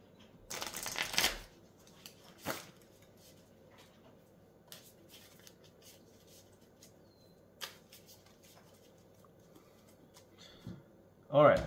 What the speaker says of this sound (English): Shuffle those back in.